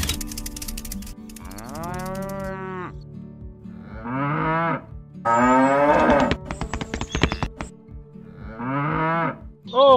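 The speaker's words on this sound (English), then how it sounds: "Cows are so hungry." Cows on a small farm set-up moo repeatedly, several loud drawn-out calls spaced across the stretch with a brief rattling clatter between them and no talk.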